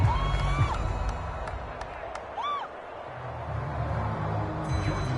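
Crowd in a PS4 American football video game roars and cheers steadily throughout, with broadband stadium noise, scattered whistles and a rising whoop, continuous and moderately loud.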